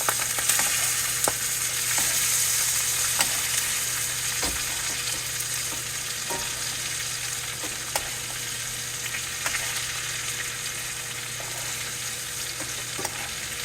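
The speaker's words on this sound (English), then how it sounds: "We're just going to keep basting this." A ribeye steak sizzles loudly in a hot pan while being basted, a constant dense frying hiss with sharp spits and ticks of a spoon scattered across it, close and without speech.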